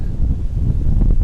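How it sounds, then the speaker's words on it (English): Gusts of wind sweep across an outdoor golf course, buffeting the microphone in a loud, low, rumbling rush that never lets up. "the wind is picking up here today"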